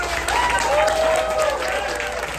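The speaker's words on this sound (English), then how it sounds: "give us a round of applause" A comedy-show audience claps and cheers for an improv troupe, a dense and continuous burst of applause with a whistle rising above it.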